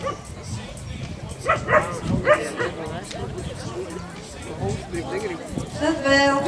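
Dogs bark, yip and whimper at a dog event in Gaviezē, Latvia, with several short bursts close by over a steady hubbub of crowd babble and talk.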